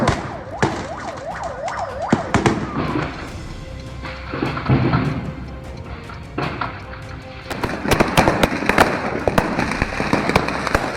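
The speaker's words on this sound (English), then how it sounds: "Fireworks shop goes up in flames." Fireworks explode inside a burning fireworks shop in Stavropol, loud rapid cracks and bangs bursting in chaotic clusters, with whistling rockets and a siren wailing beneath.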